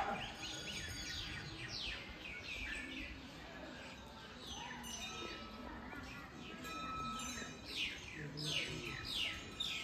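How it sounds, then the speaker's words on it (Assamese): An Asian koel calls repeatedly from some distance in a quiet outdoor setting at a temple site on Majuli island, its rising whistled notes recurring in rhythmic series over faint background ambience. "এতিয়াও কুলিয়ে মাতি আছে।"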